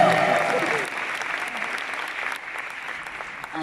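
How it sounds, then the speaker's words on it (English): Audience applause at a motivational speaking event fills the room, a steady dense wash of many hands clapping that holds for the whole stretch, with a voice briefly audible over it at the start. "Give her a round of applause"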